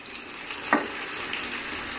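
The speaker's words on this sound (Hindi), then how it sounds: "अब आपने इसको 2 से 3 मिनट के लिए फ्राई करना है" Okra (bhindi) with coriander frying in a pan gives a steady close sizzle with a soft stir or scrape partway through, alone with no voices.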